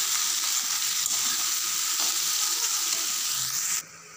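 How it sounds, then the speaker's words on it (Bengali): Eggplant pieces sizzle steadily in hot oil in a pan while cooking a cabbage curry, a continuous bright frying hiss that cuts out abruptly near the end. "এখন বেগুনগুলো দিয়ে দিচ্ছি, কারণ বেগুনগুলো একসাথে দিলে বেগুন আগেই গলে যায়, সেজন্য করে দিয়েছি। একটু ভেজে নিব।"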